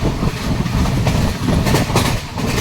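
A train on the Konkan line rolls steadily along the rails, wheels clattering in a continuous rumble with periodic clicks, loud and close, no voices.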